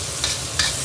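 Sichuan peppercorns and star anise stir-frying in hot oil, a steady dense sizzle with two brief scraping stirs close by.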